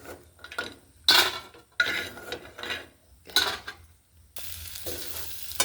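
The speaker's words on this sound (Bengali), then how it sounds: "বড়িটা ভেজে তুলে নিচ্ছি।" Lentil dumplings (bori) frying in oil in a home kitchen, with bursts of sizzling and scraping stirring strokes against the pan, several separate loud scrapes followed by a steadier sizzle.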